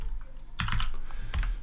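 Computer keyboard keys pressed as Shift and 6 are hit together, giving two or three quick close clicks in a quiet room.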